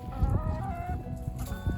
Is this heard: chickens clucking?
yes